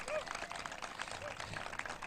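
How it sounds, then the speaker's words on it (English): Applause at an outdoor Veterans Day ceremony for Marines, a vocal quartet and a color guard: faint, scattered clapping from a modest crowd, steady and distant throughout. "How about another round of applause for Chelsea and those U.S. Marines, our quartet and the color guard?"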